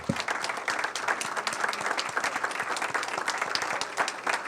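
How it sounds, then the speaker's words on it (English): An audience at a town council candidate forum in Narragansett breaks into steady, moderately quiet applause, dense clapping sustained without a pause for the whole stretch. "the candidates deserve a round of applause"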